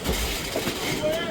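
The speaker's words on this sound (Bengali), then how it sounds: "1 নম্বর লাইনে ঢুকছে হলো হাওড়া গয়া এক্সপ্রেস।" Howrah Gaya Express, train 13023, rolls into platform 1 at Bandel Junction with a low rumble and faint wheel clatter, close by under a busy station background.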